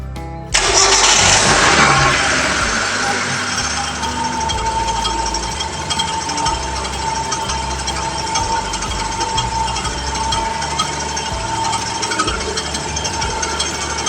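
A car engine cranks and catches after the battery is reconnected, settling into a steady, loud idle that runs without a break for the rest of the clip.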